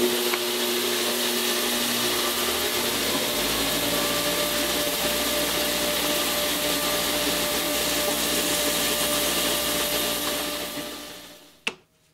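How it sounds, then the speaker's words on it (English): A belt sander runs steadily as wooden tail pieces for a Catalina Wherry boat frame are smoothed on it, a continuous loud whir with a hum that holds for about eleven seconds before it shuts down and winds off. "I'm just going to clean that up over on the belt sander here"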